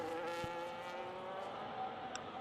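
A race car brakes into a turn on a Las Vegas circuit: a steady, loud engine drone with layered whining tones that shift slightly as it slows, plus a brief sharp tire noise near the end.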